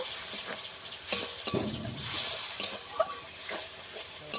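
Spice paste with turmeric, chili and cumin sizzles steadily as it is sautéed for khalse fish, a close, continuous frying hiss broken by occasional spoon scrapes and taps against the pan.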